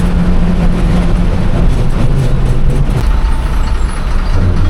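A tractor rumbles along the road close by, a loud, continuous, low engine drone with heavy road noise and no talking.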